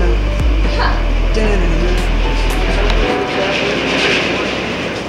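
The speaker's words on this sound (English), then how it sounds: "We're on the train now." Steady rumbling and rattling of an airport train in motion, heard from inside the car, loud and continuous with a deep low drone that drops off partway through, while people talk.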